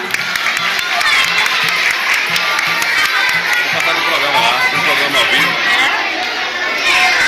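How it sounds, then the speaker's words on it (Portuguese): An audience at a live cultural event claps steadily for several seconds, mixed with crowd chatter, scattered cheers and a voice speaking over the applause. "Para o aplauso de vocês, Maria Firmina."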